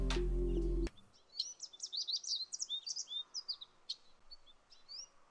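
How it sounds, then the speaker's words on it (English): Birdsong plays as background ambience, a run of bright chirps and tweets after a brief loud low hum cuts off, with the calls fairly close and steady. "I'll get the birds playing"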